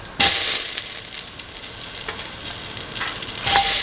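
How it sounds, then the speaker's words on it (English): Tomato pieces dropped into a hot pan for curried split chickpea rice burst into a loud, close sizzle, with bright crackling spikes at the start and again near the end and steady frying in between, no voices. "Put in the tomato pieces"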